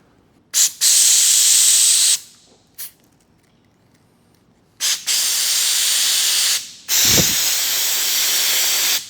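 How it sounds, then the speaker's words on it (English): Compressed air blasts through a freshly cut fuel hose during a fuel system upgrade on a Subaru STI, loud hissing bursts in several separate pulses, two long and two short, close by. "we are going to blow out the hose every single time"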